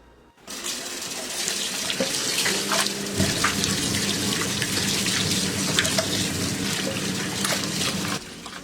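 Tap water runs steadily over pork intestines being rinsed and turned in a sink, a continuous close splashing stream that starts abruptly and holds for several seconds with faint handling noises mixed in.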